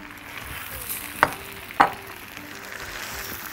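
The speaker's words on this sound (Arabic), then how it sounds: "خلاص بصوا بقى الخضار ابتدى يتشوح ازاي اهو" Vegetables and lentils sauté in a pan with a steady soft sizzle, broken by two brief sharp clinks of a utensil against the pan, close and clear with no talking.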